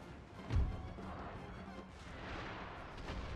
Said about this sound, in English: Ooh, artillery.